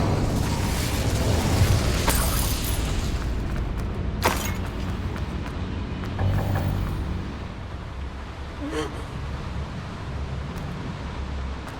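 Incendio fire spell cast in Hogwarts Legacy, bursting in a few sharp blasts over a constant low roaring rumble, with a louder hit near the middle and fainter pops later.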